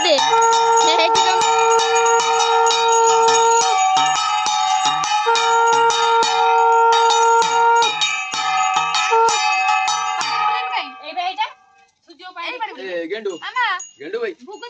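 A bell rings continuously in a steady, clanging rhythm with bright sustained tones, then stops, leaving warbling chatter and voices.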